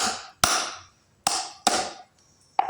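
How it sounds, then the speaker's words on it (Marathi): Raw mango being cut by hand into small pieces for spiced mango pickle, without a cutter. Four sharp, close chopping strikes come at irregular intervals, each ringing briefly before fading, with quiet gaps in between. "आता दाखवते मी की कोईच्या छोट्या फोडी कशा करायच्या"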